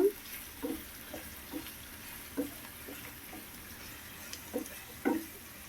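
Onion pieces and curry leaves frying in a pan, a soft continuous sizzle with scattered light clinks and scrapes from stirring, fairly quiet and close.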